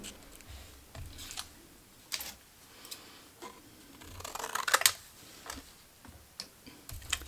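Scissors cutting paper for a handmade Christmas card, a series of separate crisp snips at an uneven pace, close and fairly quiet, with no talking.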